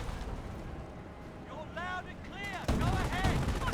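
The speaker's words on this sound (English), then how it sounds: "Good mark with the mortar" Mortar fire in Company of Heroes: a heavy broadband blast hits partway through and leaves a rumbling, crackling battle din, while someone talks over the whole stretch.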